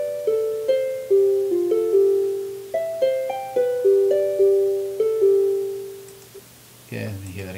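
A simple existing melody plays back from Finale notation software through a MIDI bus as clean synthetic notes stepping in a steady rhythm, each note decaying, followed by a short burst of noise at the end.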